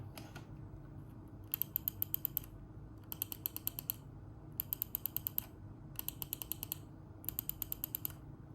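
Quick bursts of crisp clicks from a Microsoft Ocean Plastic mouse, five or six rapid clicks per group, repeated in several groups over a faint steady background hum.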